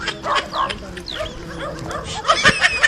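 A dog at a K-9 unit gives short, sharp yips and barks in quick bursts, close by, with people talking around it.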